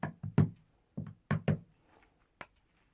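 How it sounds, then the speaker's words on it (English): Knuckles rap on a deck of tarot cards in quick, irregular knocks, about seven crisp taps in small clusters, close and fairly quiet, with no talking. "A little knock there just to make sure no previous vibrations are remaining in the cards"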